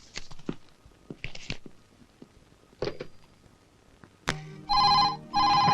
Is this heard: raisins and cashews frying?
no